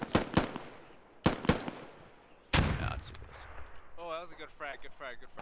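Gunfire in the tactical shooter Squad: a few sharp, fairly close rifle shots in quick pairs, then a heavier blast that rumbles and fades, with a voice talking over the tail end.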